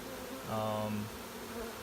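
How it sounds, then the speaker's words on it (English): A steady buzz from a large honeybee swarm hums through the background, swelling louder for about half a second in the middle before settling back to a low drone. "it's such a large swarm"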